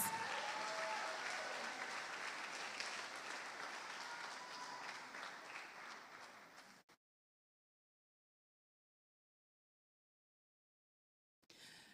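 An audience at the Orealia Kelly Primary School graduation ceremony applauds students. Dense clapping fades gradually over about seven seconds, then there is silence, and a brief burst of clapping returns at the end.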